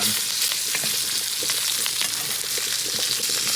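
A ribeye steak sizzles steadily in a hot pan as butter and fresh herbs are spooned over it, with a loud continuous fry and small spoon scrapes and spatters throughout.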